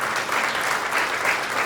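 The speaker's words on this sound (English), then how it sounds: "they deserve a big hand of applause" An audience at a business council event gives a short burst of applause, dense steady clapping that fills the whole stretch at moderate level.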